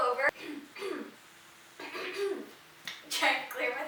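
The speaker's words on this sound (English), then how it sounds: "Trying to clear my throat." A person clears their throat several times in rough, gravelly bursts, with short pauses between, close to the listener.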